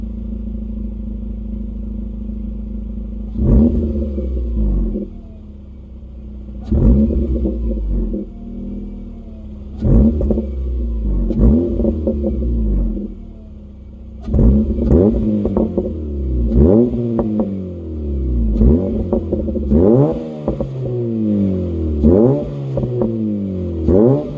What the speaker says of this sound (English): I'll put a little clip of it kind of revving and the exhaust sound right here.